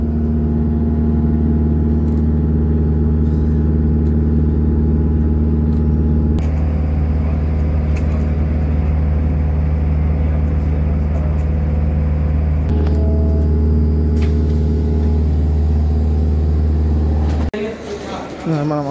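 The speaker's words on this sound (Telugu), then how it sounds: "ఇక్కడి నుంచి బయలుదేరిపోతూ ఉంటుంది బస్సు." A crowded passenger bus in Rayachoti pulling out, its engine giving a loud, steady low rumble throughout, with a shift near the end. People talk over it.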